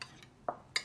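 Salad vegetables are tossed with a homemade sauce, giving two or three brief clinks and scrapes of a utensil against a bowl, close and light.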